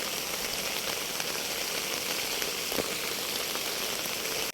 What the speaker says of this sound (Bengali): কাদা আলা রাস্তায় বৃষ্টি পড়ছে